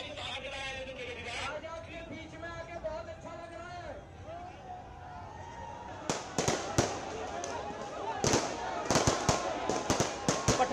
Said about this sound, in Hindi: पटाखे जला रहे हैं आम आदमी पार्टी के कार्यकर्ता